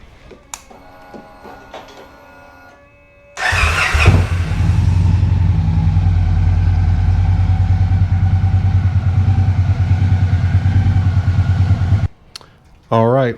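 A Victory Cross Country motorcycle engine fires up after a few seconds of quiet clicks, then settles into a loud, steady, throbbing idle to warm the oil before cutting off near the end.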